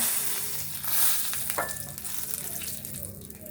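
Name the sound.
whole garam masala spices sizzling in hot oil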